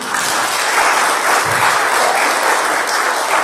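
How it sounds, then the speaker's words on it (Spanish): A church congregation applauds their pastor, a dense, steady wash of clapping from many hands filling the room at full volume throughout. "¿Alguien puede dar un aplauso al pastor?"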